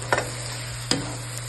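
Bitter melon sautéing with tomato in a pan gets two quick scraping stirs over a quiet, steady sizzle.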